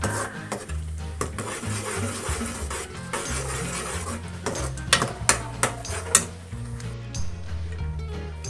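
Thick anarsa batter flavoured with cardamom powder is stirred in a pan, a spoon scraping and knocking against the metal in an uneven rhythm, with a few louder clanks near the end and no voices.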